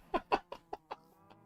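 A pet chicken clucks close by in a quick run of five short notes that trail off into a softer final one, heard alone in a quiet room.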